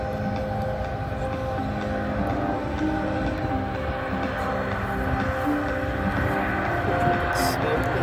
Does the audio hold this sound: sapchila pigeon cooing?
no